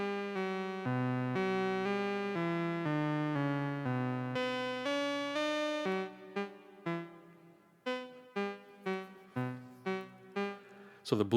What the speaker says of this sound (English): That's why you hear the gate opening every time.